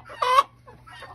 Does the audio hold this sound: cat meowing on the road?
no